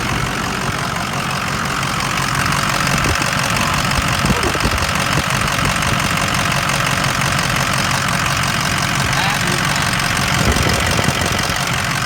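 Warm 2006 Ford F350 engine running steadily at idle, a dense, continuous rumbling clatter heard close up with faint knocking ticks throughout.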